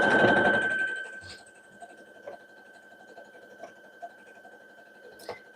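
A sewing machine stitches satin for a reversible pillow bonnet, opening with a loud burst of running and then settling into quiet, steady stitching with a few small clicks.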